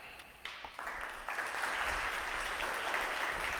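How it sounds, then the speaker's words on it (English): Audience applause welcoming a speaker to the stage at a parents' association general assembly and conference, starting small and quickly swelling into steady, dense clapping that fills the room. "So, welcome applause to Darius."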